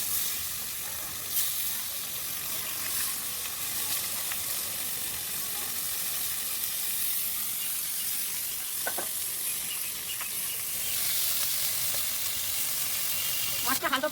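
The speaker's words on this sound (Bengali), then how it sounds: "মাছটা হালকা করে ভেজে নিলাম, বেশি ভাজলে টেস্ট থাকবে না।" Chapila fish frying lightly in curry oil seasoned with salt and turmeric, giving a steady, dense sizzle that stays loud and close throughout, with a few faint clinks and no talk.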